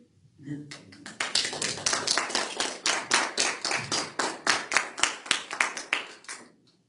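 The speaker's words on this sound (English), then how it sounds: "Can we give her one more round of applause?" An audience at a Sunday service gives a round of applause that swells quickly and holds as a dense, even clatter of clapping hands, fading out at the end.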